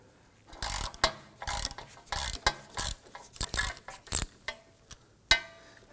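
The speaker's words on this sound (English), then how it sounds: "I'm going to use an extension to get me beyond that backing plate with a ratchet" A ratchet on an extension with a 15mm socket clicks in quick bursts while backing out a bolt on a 2003-2014 Volvo XC90 3.2L rear CV axle, close and crisp with short pauses between strokes.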